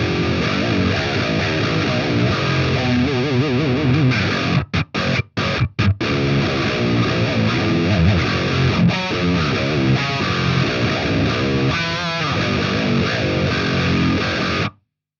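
A 1994 Peavey 5150 amp on its red channel, controls set for metal, drives heavily distorted electric guitar through a Mesa 4x12 cabinet, dense chugging riffs with brief stops, loud and alone.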